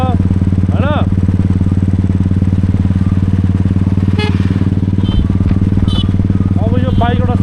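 A motorcycle engine idles close by, a steady, even rumble running unbroken through the whole stretch, with a few faint chirps or brief voice-like sounds rising over it.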